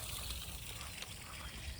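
Water trickles steadily from a watering can or hose onto a tomato plant in a garden on a hot late morning, a faint continuous hiss with no talk.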